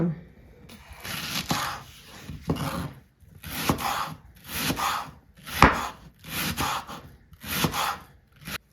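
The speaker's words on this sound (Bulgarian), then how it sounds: "Хайде да пристъпваме към нарязването на лука и праза." A kitchen knife chops leek and onion on a board in repeated bursts of quick rhythmic cuts separated by short pauses, fairly close and steady.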